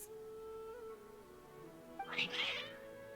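Cats in the Genshin Impact video game give a short meow-like call near the end, heard over a quiet, steady game soundtrack.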